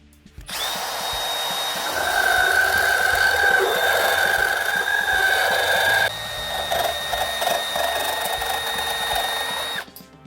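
A small Dremel-type multi-blade rotary cutter, also usable in a drill, whines steadily as it cuts wood or PVC. The pitch dips partway through, then the tool runs on and stops, loud and close, with no talking.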